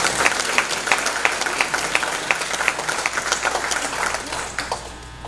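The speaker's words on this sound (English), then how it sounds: "Let's give the awardees a big round of applause." Audience applause for awardees at the 20th Marcus Garvey Roots Extravaganza, a steady crowd of hand claps with sharp individual claps standing out, sustained throughout and tapering slightly at the end.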